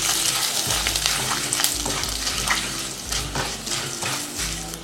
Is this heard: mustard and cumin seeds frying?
yes